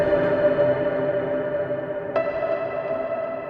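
Piano played through a Beat Squeezer device with added Ableton Live 10 reverb, a steady sustained tonal wash with a soft accent midway, no talking.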